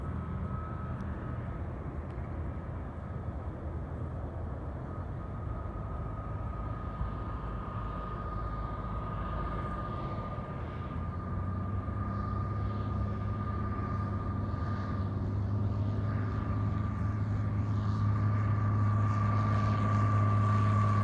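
A Piper Lance 2 airplane lands on runway 32R at KCCR, its steady engine drone heard from a distance, continuous and fairly faint, growing slightly louder toward the end.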